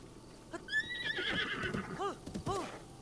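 A horse in Zelda: Breath of the Wild neighs while being tamed, a rising whinny followed by snorting whickers and faint hoof clops, fairly quiet in the game's mix.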